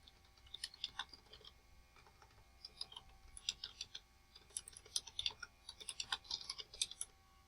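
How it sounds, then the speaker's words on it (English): Quiet typing on a computer keyboard, irregular bursts of soft key clicks with short pauses, faint and close with no talking. "There's a lot of typing in this chapter"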